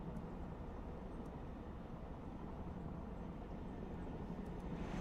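A Chinook helicopter from the video game Broken Arrow drones steadily and faintly, a continuous low rotor rumble with no breaks.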